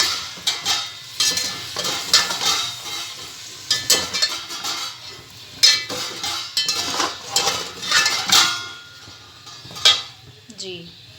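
Tomatoes and green chillies frying in ghee with turmeric and red chilli powder for a chicken pulao, a close, busy sizzle broken by repeated scrapes and clinks of a spoon stirring against the pot.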